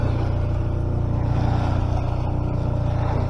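A sailboat's motor drones steadily and loudly on a calm sea, a continuous low engine rumble with no pauses, heard while motoring with the mainsail up.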